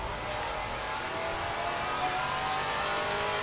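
A Maserati GT4 race car engine in Assetto Corsa Competizione, driven at Laguna Seca in night rain, holds a steady, loud high-revving drone with hiss layered over it, continuous and close.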